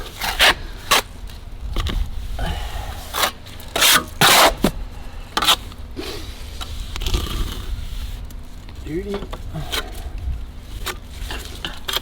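A trowel scooping and spreading mortar over a crack in a brick fence wall, rough scraping strokes in quick irregular bursts, close and fairly loud, with short pauses between.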